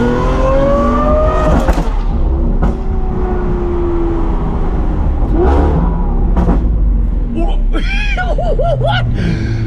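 A Lamborghini Aventador SVJ with a Gintani F1 exhaust revs and shifts with sharp pops, the V12 rising and falling close by while excited voices talk over it.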